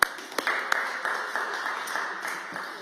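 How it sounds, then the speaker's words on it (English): Council members and staff clap at a city council annual strategy meeting, a modest, fairly quiet patter of hands with a few sharper claps standing out, fading slightly toward the end. "give yourselves a round of applause"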